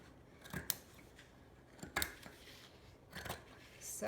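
Scissors snipping through fabric for newborn baby pants, a few crisp separate cuts at close range with quiet pauses between them, no speech.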